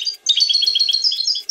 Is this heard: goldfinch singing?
yes